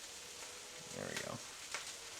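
Potatoes frying in a pan make a faint, steady sizzle, with a brief louder crackle in the middle, like a stir or shake, and a soft voice underneath.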